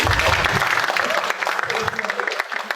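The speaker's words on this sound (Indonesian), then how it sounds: "Kita beri aplaus sekali lagi." Applause for a presenter at an online webinar on artificial intelligence and robotics, a steady patter of clapping hands lasting a few seconds with a murmur of voices mixed in.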